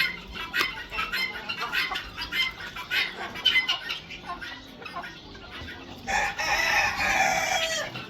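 A rooster crows at a farm with chickens and ducks, first in a series of clucks and short calls, then a long, loud crow near the end.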